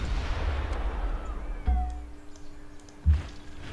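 Artillery in Civilization 5 fires two deep, booming thumps a second or so apart over a quiet background hum, each with a short rumbling tail.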